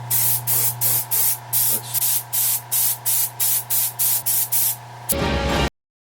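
Short bursts of spray paint laying pumpkin orange onto a Michael Myers mask, about a dozen evenly spaced hissing puffs followed by one longer, louder spray at the end, close up with no talking.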